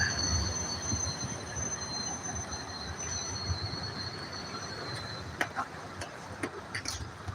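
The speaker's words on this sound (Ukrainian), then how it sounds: "Так, трамвай сюди проїхав." A tram rolls past outdoors in Lviv with a steady rumble, high metallic wheel squeals ringing over it, and a few sharp clanks near the end.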